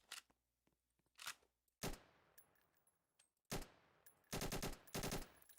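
Gunfire from a FAMAS rifle in the Roblox video game, heard as sharp bursts and single shots separated by gaps, with a couple of dense rapid volleys near the end, loud and close.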